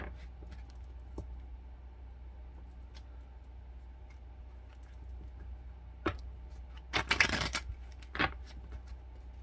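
Playing cards are shuffled in a few quick riffling bursts near the end, close and crisp, after a quiet stretch with light ticks and no talk.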